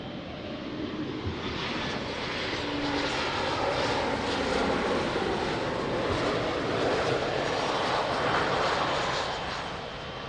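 Fixed-wing airliner landing at Lisbon Airport, a steady loud engine roar swelling and sustained across the whole stretch with broad rumbling wash, no voices.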